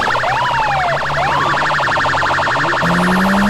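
Police siren in GTA, loud and close, wailing in a fast warbling cycle over the whole stretch with engine hum and other tones underneath.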